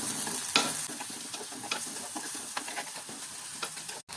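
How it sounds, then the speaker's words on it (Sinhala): Onion, chilli, ginger and tomato fry in oil for a chicken curry, giving a close sizzle under busy, repeated stirring clicks and scrapes of a spoon, ending with a sudden brief cut to silence. "මේක ඔක්කොම අnder දාලා ටිකක් වෙලා කරනවා."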